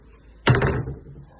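A walk-in closet door or drawer in a house shuts with one close, solid thump followed by a brief rattling decay, with no talking.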